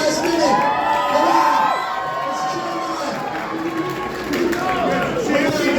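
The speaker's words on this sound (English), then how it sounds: "let's cheer them on" A crowd cheers and shouts encouragement at a pizza eating contest, with excited voices, children's yells and whoops forming a steady loud din throughout.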